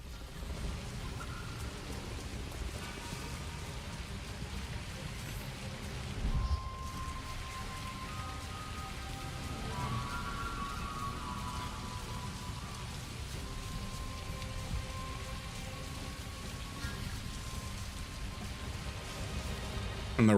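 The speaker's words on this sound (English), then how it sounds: "Here we got a big old rainstorm coming in as well." Continuous rainstorm in the video game Avatar: Frontiers of Pandora, a steady hiss of drops on surfaces, a low rumble underneath, and faint tonal background sounds throughout.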